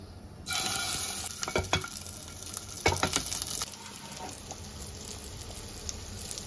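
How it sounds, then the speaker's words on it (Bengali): A sudden loud sizzle as eggs hit hot oil in a wok, followed by steady crackling and spattering, with a few stirring clinks. "এবার আমি ডিমগুলো ভেজে নেব।"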